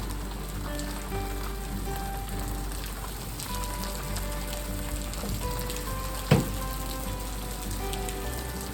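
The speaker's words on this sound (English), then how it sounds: "And before we knew it, it was just pouring down rain." Heavy rain pouring down in a storm that has blown in around an old bank barn, a dense continuous hiss of rain on surfaces under a low hum, with one sharp knock near the end.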